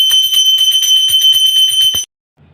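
A small handbell rings rapidly and loudly during a Hindu puja, a bright shimmering clang that continues for about two seconds and then stops abruptly.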